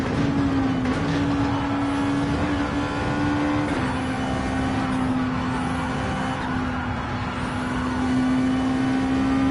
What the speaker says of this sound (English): just listening to the noise that the tyres are making there as well